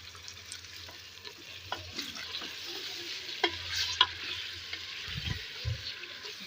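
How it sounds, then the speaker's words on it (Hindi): Mutton pieces fry in a pot as they are stirred, a soft sizzle under intermittent scraping and clinks of the spoon, fairly quiet and close, with a couple of low thumps near the end. "गोश्त की भी हम भुनाई कर लेते हैं अच्छी तरीके से"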